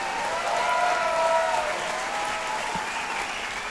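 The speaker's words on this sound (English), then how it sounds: "a big round of applause for both of these RFO combatants." A crowd applauds steadily for both combatants after a three-round RFO Big Guns fight, with sustained clapping and cheering filling the whole stretch at an even level.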